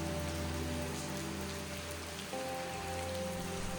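Steady rain pours on surfaces in a hillside town, a dense even hiss throughout with faint tonal music beneath and no talk.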